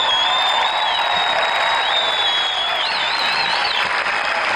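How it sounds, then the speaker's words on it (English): A large audience applauds loudly and continuously at a horse racing tribute honoring a Hall of Fame jockey, with a whistle or whoop rising above the dense clapping. "Just keep applauding him because he's amazing."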